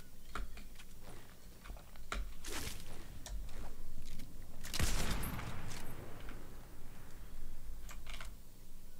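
Keyboard and mouse clicks during Fortnite gameplay, a close, rapid stream of keystrokes and clicks mixed with game gunfire and a loud burst midway.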